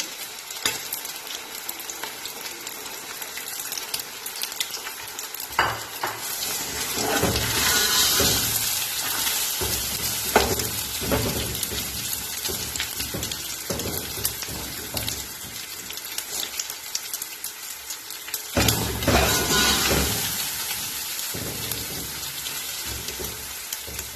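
Six eggs hit hot oil in a pan for Chinese pulao and sizzle loudly and steadily up close, with stirring scrapes and swells of crackling frying throughout.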